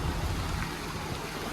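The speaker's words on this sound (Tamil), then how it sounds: "மழை பெய்யுது." Heavy rain pours during a flood in West Mambalam, Chennai, a dense, loud, continuous hiss with no voices over it.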